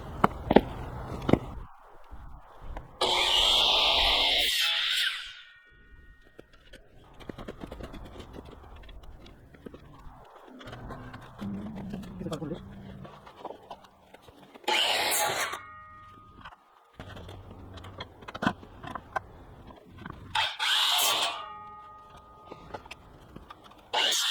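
Bursts of a power saw cutting a wooden board to length for a compost bin, loud and close, separated by pauses with handling noises and knocks.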